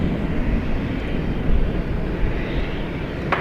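A FedEx plane taxis at DFW airport, its steady broadband engine roar holding at a constant level throughout, with no talk.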